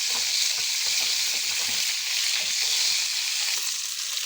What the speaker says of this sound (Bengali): এবার আমি পটলটাকে ডুবো তেলে ভালো করে ব্রাউন কালার করে ভেজে তুলে নিব